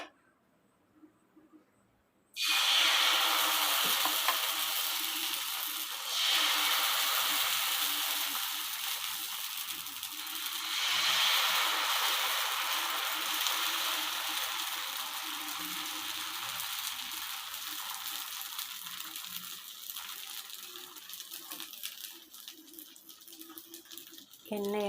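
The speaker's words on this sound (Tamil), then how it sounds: "இப்போ வந்து ஓட்ஸ் தோசை ஊற்ற போகிறோம்." Oats dosa batter poured onto a hot pan starts a loud, steady sizzle that sets in abruptly after a quiet moment and hisses on evenly throughout.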